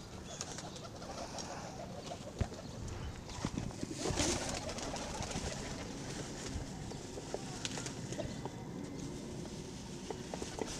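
Pigeons coo steadily throughout at a mini zoo in Lahore, a dense murmur of many birds close by, with occasional wing flutters and scuffles.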